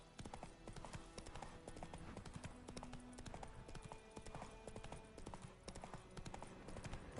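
Horse hooves clip-clop steadily in The Witcher 3, a continuous rhythmic trot of moderate loudness with game ambience underneath and no talking.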